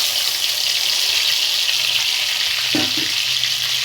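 Steady, hissing sizzle of garlic frying in hot oil on a high gas flame, close and continuous, with a soft thud or stir partway through.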